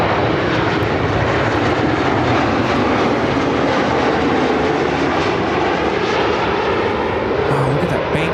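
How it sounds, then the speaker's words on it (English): An American Airlines Boeing 737 MAX 8 inbound from Santa Ana, California lands at Chicago O'Hare, its close, loud jet roar filling the whole stretch as one continuous broad rush with a faint rising whine. "This is American Airlines 2285 coming in from Santa Ana, California on the MAX 8"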